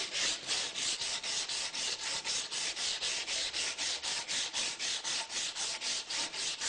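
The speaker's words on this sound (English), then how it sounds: "Then we put the plane aside and get some coarse sandpaper." Coarse sandpaper worked by hand along a wooden boat spar in steady, rhythmic back-and-forth strokes, about four per second, close and alone with no talking.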